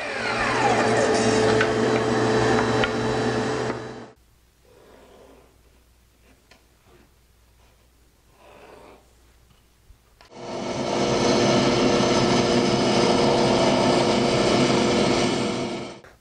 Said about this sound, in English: So I'm going to start cutting out these pieces right now